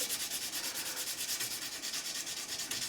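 Steady rhythmic rubbing of 400 grit sandpaper polishing the fret tops on a reliced Telecaster guitar neck, close and continuous back-and-forth strokes with no talk.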